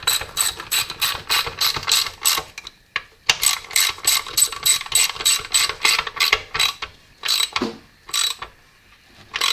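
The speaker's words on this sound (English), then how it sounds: "So just grab your ratchet and then just nip those both up." Ratchet spanner tightening the strainer bolts on a Morris Mini 850 gearbox, a close, loud run of rapid clicking bursts in quick rhythmic strokes with brief pauses between sets.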